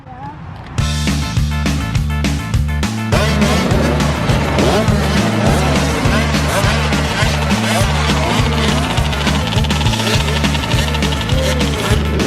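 Several 65cc motocross bikes run a warm-up practice session for beginner, junior and intermediate riders, their engines droning loud and continuous with a steady repeating pattern after a brief quiet start, and a voice speaks over the riding.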